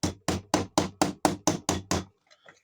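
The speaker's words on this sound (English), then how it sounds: "So let's just hammer this whole thing out." A hammer strikes a sterling silver ring nine times in quick, even succession, sharp, loud metallic knocks close by, followed by faint soft handling sounds.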